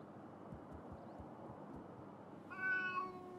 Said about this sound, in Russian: вот котенька осуждает